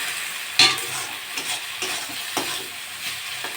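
Ridge gourd frying with shrimp in a pan, a soft continuous sizzle broken by several sharp scraping stirs of a spatula, close and clear with no talk.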